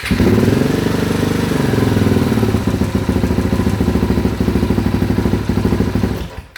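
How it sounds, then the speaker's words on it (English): A rally-prepared KTM 690 single-cylinder motorcycle engine runs loud and close, revving then settling into an uneven, stuttering idle with irregular misfire pops. "You have to keep it over 3000 RPMs. After 3000 RPMs it's almost okay. It's a bit rough, seems like misfiring a little."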